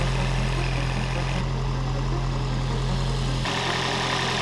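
A high-mileage Toyota Prius engine with heavy blow-by runs with its oil cap off, giving a steady, loud idling drone with a low hum that shifts in tone partway through, with no talking.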